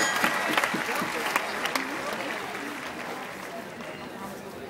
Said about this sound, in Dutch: Applaus voor Ben Meyer.